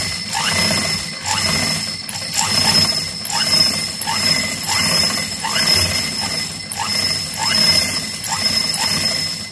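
Sewing machine winding thread onto its bobbin, giving a steady mechanical whir with a regular, repeating clicking rhythm, close and continuous, with no talking.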